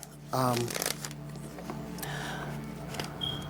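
A deck of oracle cards is shuffled close by, with a quick burst of riffling and sliding that settles into softer card rustling, and a brief voice sound near the start.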